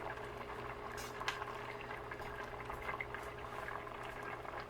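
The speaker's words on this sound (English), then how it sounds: "Okay, so here it is at a boil." A pot of curried shrimp and vegetables at a steady boil, a faint, continuous bubbling and simmering hiss with small pops, quiet and unbroken throughout.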